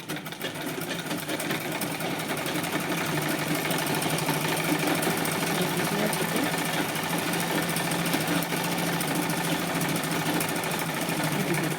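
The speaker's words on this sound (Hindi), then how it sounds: "इसी साइड से हम इसमें क्विल्टिंग करेंगे। तो यहाँ पे हम छोटी छोटी इस तरीके से लाइनें बनाते जाएंगे।" A sewing machine runs without pause while quilting fabric for a multi-use organizer made from an old salwar, a dense, even mechanical whir and rattle lasting the whole stretch at close range, with no talk.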